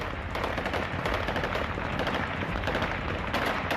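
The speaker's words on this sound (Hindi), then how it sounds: "तस्वीरें आप देख सकते हैं और आवाजें भी सुन सकते हैं कि किस तरह गोलियों की आवाजें यहाँ पर सामने आ रही हैं" Continuous heavy gunfire from Taliban fighters in Afghanistan, dense rapid automatic bursts and cracks overlapping into a loud, unbroken barrage with no talk.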